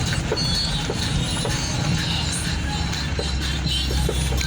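Train running along rail tracks through a street in Imbaba, Giza, Egypt, a steady close rumble with faint wheel clatter and squeal throughout, loud and continuous.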